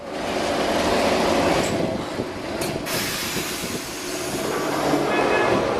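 A yellow Lisbon tram rolls past on rails, a continuous loud rumble with metallic clatter and a brief squeal, close by with no talking.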